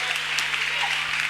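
A church congregation claps at a worship service, a brief, dense and steady burst of applause under a low hum.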